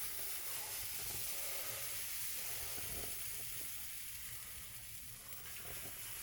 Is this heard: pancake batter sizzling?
yes